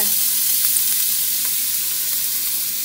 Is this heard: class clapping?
no